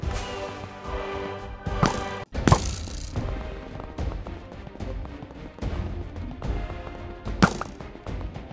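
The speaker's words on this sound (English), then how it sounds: "I love watching TNT go kaboom!" TNT explodes in Minecraft Legends, Bedrock Edition. Several sharp, cracking blasts go off at irregular intervals over a continuous layer of game music and battle noise.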